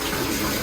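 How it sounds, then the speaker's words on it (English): Tap water running in a steady, dense rush, loud and continuous, close by with no pauses. "You have your water running."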